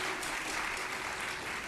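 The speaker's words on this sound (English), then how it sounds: "they would hold their applause until the end of the forum tonight" Audience applause at a 1994 Women League of Voters debate forum, a soft, steady wash of clapping for under two seconds with no voices on top.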